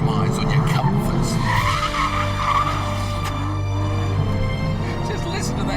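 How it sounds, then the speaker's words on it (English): An Aston Martin V12 Vantage engine roars and revs while tires squeal, loud and close, with the note rising and settling over several seconds. "Just listen to the engine"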